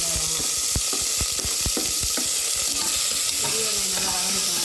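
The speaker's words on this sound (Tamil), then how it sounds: "அவ்வளோதான், வெங்காயம் வதங்க." Sliced big onions sizzling in hot oil with cloves, star anise, cinnamon bark and a cardamom pod for a vegetable kurma, a steady loud frying hiss broken by several spoon or spatula stirs scraping the pan.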